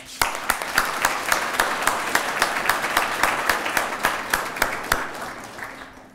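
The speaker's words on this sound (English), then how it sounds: "I think we owe him a round of applause" Applause breaks out for Bruce Moore at an employee of the year nominee reception: a modest crowd claps steadily, with several sharp nearby claps standing out in a loose rhythm before the sound thins toward the end.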